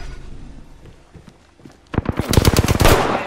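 Gunfire in the video game Apex Legends starts after a quieter stretch with faint clicks, then breaks into a loud, rapid burst of automatic fire that continues to the end.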